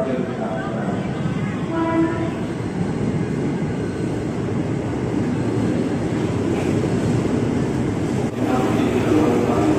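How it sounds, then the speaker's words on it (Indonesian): A JR 205 series eight-car electric commuter train to Tangerang rumbles steadily past at close range at Duri station, a continuous loud roll of wheels and motors with faint squeals on top. "ini JRS 205 series 8 kereta komuteran tujuan Tangerang yang cukup rame"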